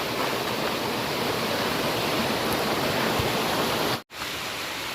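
Steady, dense hiss of heavy rain pouring outdoors after crab catching, unbroken and loud for several seconds, with one abrupt momentary dropout near the end.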